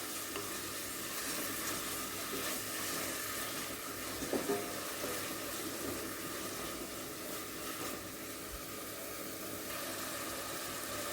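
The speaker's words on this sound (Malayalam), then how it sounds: "ഇതും കൂടി ഇട്ടിട്ട് നന്നായിട്ടൊന്ന് വഴറ്റുക" Chopped onions with salt sautéing in a pan, giving a steady soft sizzle and hiss with occasional stirring scrapes, fairly quiet and alone with no talk.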